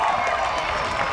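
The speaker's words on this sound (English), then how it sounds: "Nice loud round of applause for Gil Bradstreet" A spectator crowd at a summer drag racing event applauds and cheers for racer Gil Bradstreet, a steady wash of clapping and crowd noise with a voice heard alongside it.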